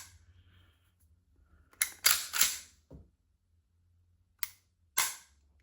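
Trigger of a Military Arms DS9 pistol, a crisp 5.5 pound break with a short reset, snapping through several sharp, close mechanical clicks in a quiet room, spaced out with pauses between them.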